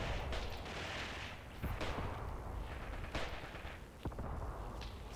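Distant battle gunfire from a WW2 Eastern Front video game set in 1943 rumbles steadily, with scattered sharp shots and booming reports over a constant low roar, fairly faint overall.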